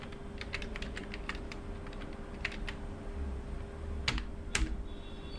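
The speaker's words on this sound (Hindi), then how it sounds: "तो यहाँ पे मैं जीएसटी नंबर टाइप कर देता हूँ" Someone types a GST number into accounting software on a computer keyboard, producing quick, close bursts of light key clicks with short pauses between runs, heavier taps near the end, and no talking.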